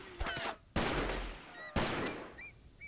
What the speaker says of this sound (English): Somebody's shooting us from somewhere, I just can't tell where they're shooting at us from.